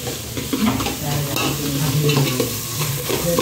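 Masala paste sizzling and frying in oil while a spoon stirs it in the pan, steady close crackle with repeated scraping strokes, no talking, for egg bhurji rice.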